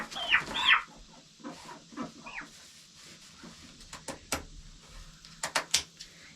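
Meat chickens cluck and squawk nearby while their feathers are trimmed, with a few sharp calls and soft intermittent clucks over faint handling noises.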